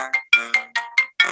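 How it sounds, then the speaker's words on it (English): A mobile phone ringtone plays nearby at moderate volume: a quick melodic pattern of bright, bell-like tones repeating in short rhythmic bursts, with no talking during the ring. "Is that my phone? Yeah, that's your phone, not mine."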